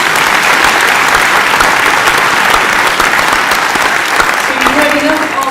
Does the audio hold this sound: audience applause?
yes